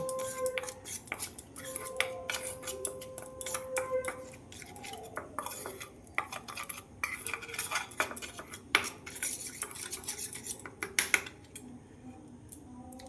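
Salt, sugar, turmeric, red chili, cumin and coriander powders being mixed together, busy clinking and scraping of a spoon against a bowl or plate, close and continuous, no talking.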